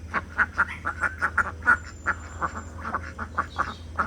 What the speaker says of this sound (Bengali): চলে গেলাম হাঁসের কাছে দানা দিতে। তো এই যে হাঁসকে দিচ্ছি এখানটায়